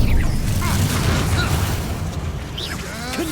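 A Bombarda blasting spell explodes in Hogwarts Legacy gameplay: a loud, deep boom at the start that rumbles and fades over a few seconds, with scattered game effects after it.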